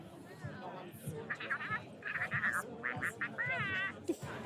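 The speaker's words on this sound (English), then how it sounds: "He's purring actually right now because I've been petting his cheeks so much." Soft, breathy duck calls with a trilling, purr-like flutter come in short bursts, close by, while someone talks quietly in the background.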